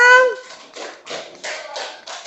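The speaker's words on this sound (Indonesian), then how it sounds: "Tepuk tangan untuk kelompok" Children in a classroom clap for group 6, the winners of the day's tournament, in a few quick bursts of close, uneven clapping that mix with young voices.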